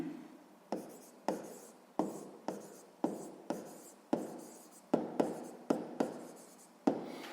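A pen writes an answer in a school notebook for a sixth-grade math exercise, making about fourteen crisp, close scratchy strokes in a steady rhythm, quiet and alone.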